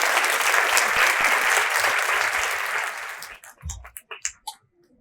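An audience applauds a keynote speaker at a healthcare event, with steady, dense clapping for about three seconds that then thins into a few scattered, fading claps.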